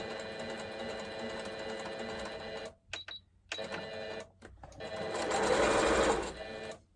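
A sewing machine stitches the sides and bottom of a shopping bag, running in steady whirring bursts with a brief pause in the middle, then a faster, louder stretch at the end.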